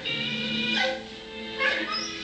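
A dog whimpers and lets out high, strained yips, two rising cries close by over a steady background hum.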